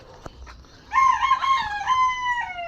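A native chicken rooster crows nearby, loud and drawn out, after a brief quiet moment with faint clucking; no voices.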